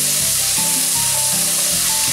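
Beans just added to a hot pan with salty prosciutto for pasta e fagioli, giving a loud, close, continuous sizzle that roars steadily throughout without talk.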